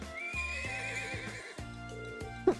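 A horse neighs in the video game Trails of Cold Steel, a drawn-out whinny rising and wavering over steady game music, close and clear, with a short sharp knock near the end.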